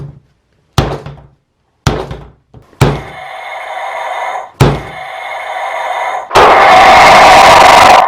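A Bandai Godzilla sound battler toy gives several hollow plastic thunks, then a buzzy, distorted roar, ending in a loud, harsh burst of noise, all close up.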